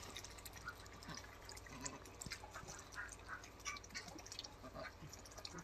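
Ducks bathing in water in a garden, with faint, continuous splashing and dripping and occasional soft duck sounds, heard at low level without talk.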